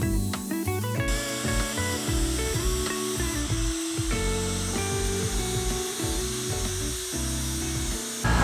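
Harbor Freight 13-amp Hercules angle grinder with a flap disc stripping rust from metal, a close, loud whining grind with shifting pitch as the disc bites and eases off the surface, no speech.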